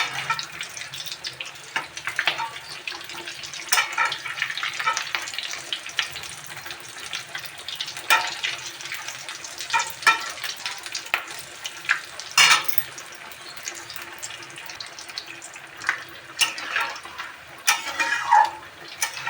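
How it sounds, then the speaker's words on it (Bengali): Potato chops sizzle and bubble steadily in hot oil, a continuous crackling hiss with occasional louder pops and a few utensil clicks. "আলু চপগুলো ভাজা হচ্ছে"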